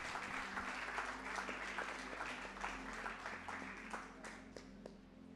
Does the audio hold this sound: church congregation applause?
yes